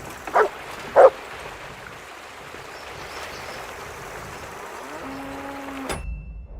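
In the medieval video game Kingdom Come: Deliverance II, a dog gives two sharp, close barks, then faint outdoor ambience with a trickling stream follows, broken by a brief tonal hum near the end.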